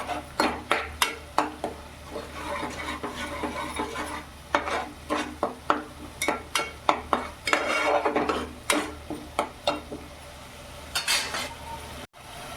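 A spoon stirs and scrapes tomato and spice pastes cooking in a pan for masala bhendi, producing a quick series of rhythmic metallic scrapes and clanks over a soft sizzle, close and fairly loud.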